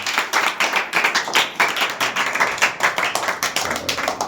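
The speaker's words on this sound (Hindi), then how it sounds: "ताली बजाओ।" A group of children claps in quick, uneven bursts at a school birthday celebration, with loud, steady applause filling the whole stretch and no talk over it.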